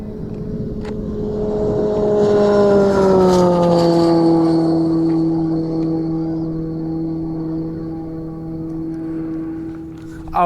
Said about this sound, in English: 5000 RPMs all the time, DTM engine, 2 liters with turbo and 2 electric motors, front and back.